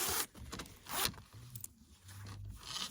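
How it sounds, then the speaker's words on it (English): Zipper on a Carhartt hoodie being unzipped up close, with several quick metallic zipping runs and faint handling noises in between, no talking. "unzips like this. Now I know I have the right zipper."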